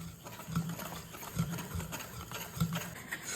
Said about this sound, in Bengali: এইবার এই শুকনো উপকরণগুলো আমি ভালোভাবে মিশিয়ে নিচ্ছি